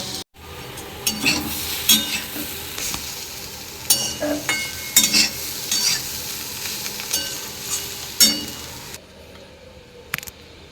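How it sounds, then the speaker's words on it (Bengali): Potatoes frying in a kadai while being stirred, a continuous close sizzle broken by repeated scrapes and metallic clinks of the spatula, ending abruptly in near silence. "এইদিকে আমার আলু ভাজা হয়ে এসছে"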